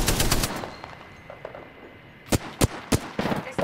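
Gunfire in Apex Legends: a few sharp, loud single shots ring out in an uneven string, each a hard broadband crack, following a quieter stretch of muffled game ambience and an earlier burst of rapid shots.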